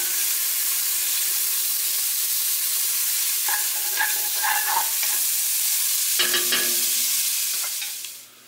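Pancetta browning in a soup pot, giving a steady, loud, close sizzle with scattered spoon scrapes and clinks in the middle and toward the end before the sound fades out, with no talking.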